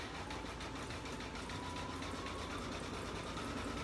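Embroidery machine stitching out a letter F for an in-the-hoop coffee cup wrap, a continuous close mechanical hum with fast, even needle chatter at a slowed pace.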